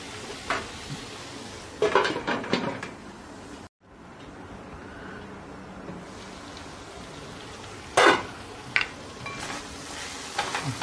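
Bitter gourd and onion cooking in a pan, with a low steady sizzle and occasional bursts of stirring and scraping, close and fairly quiet.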